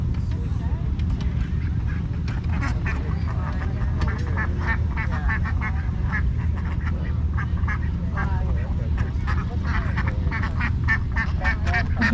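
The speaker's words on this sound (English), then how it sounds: "You know that only girls quack?" Female ducks quacking repeatedly at a harvest festival duck-herding demonstration, steady close calls over a continuous outdoor crowd and background murmur.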